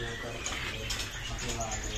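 Oriental magpie-robins sing and chirp inside a bird shop, several songbirds calling faintly over a dense, steady background hiss.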